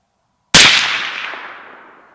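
A single rifle shot from a 300 Blackout firing a supersonic 120gr Barnes TAC-TX hunting load: one loud, sharp crack that bursts out of silence, then a long ringing tail that slowly fades outdoors.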